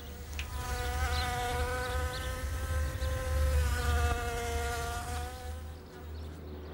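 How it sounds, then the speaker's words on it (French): A founding queen wasp just out of hibernation buzzes steadily and close, a continuous droning hum with a wavering pitch that rises and dips, alone with no voices. "Cette guêpe-là n'est pas ordinaire. C'est une femelle fondatrice, née l'été précédent."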